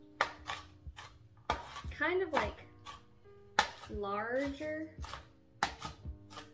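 Knife chopping on a cutting board while making meatloaf, a rough chop into pieces: sharp repeated thuds in uneven bursts, close and fairly loud, with a person talking between and over the cuts.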